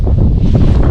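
Wind gusts across the microphone on a boat drifting down the Moksha River in Mordovia, a loud, continuous low buffeting roar with no voices.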